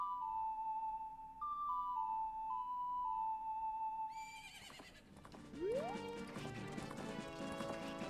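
Horse hooves clip-clop in the Zelda: Majora's Mask video game, followed by a rising neigh, heard over tonal game music.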